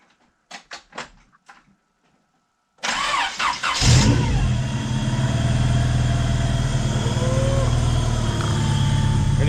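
A Honda B-series engine in a Civic, heard up close, gets a few cranking attempts and then catches on first try, revving loudly before settling into a steady, rumbling idle.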